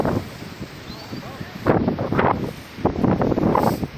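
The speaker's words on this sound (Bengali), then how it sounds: "খুব হাওয়া দিচ্ছে" Strong October wind at Thajiwas Glacier in Sonmarg buffets the microphone in loud, rushing gusts that swell and fade, with people talking faintly underneath.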